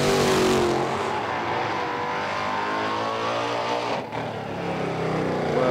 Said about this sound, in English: Another Dart, Mick Deakin in the far lane.